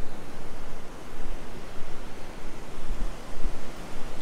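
Ocean surf at Myrtle Beach, South Carolina rolls and washes steadily on a calm day with small waves, a continuous broadband wash that swells and eases with no voices.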